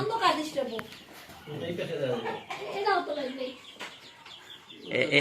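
Chickens on a poultry farm after dark cluck again and again at close range, a busy, overlapping chatter that keeps going throughout.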